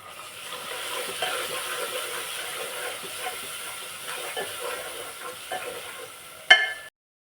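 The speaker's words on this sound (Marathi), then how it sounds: "टोमॅटो टाकल्यानंतर आपण टोमॅटो मऊ होईपर्यंत व्यवस्थित परतून घ्यायचे" Tomatoes sauté in a pan for spicy dal fry, a steady close sizzle with light stirring throughout and one sharp utensil clank near the end.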